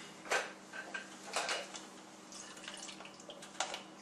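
Water drips and splashes into a catch container from a disconnected reverse-osmosis filter line, a few scattered faint drops and trickles over a low steady hum, no talking.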